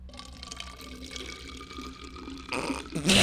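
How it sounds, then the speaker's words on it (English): Liquid from an Owens Mixers can poured into a bottle: a steady, close trickling stream that grows louder and splashier near the end. "And I will now pour the Owens Mixers into a bottle."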